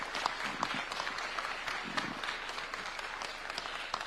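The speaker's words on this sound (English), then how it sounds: "May we all stand with a hand clap to invite His Excellency." A standing crowd in a large conference hall in Nairobi claps to welcome the Kenyan President, producing sustained, fairly distant applause with scattered sharper claps and a murmur of voices underneath.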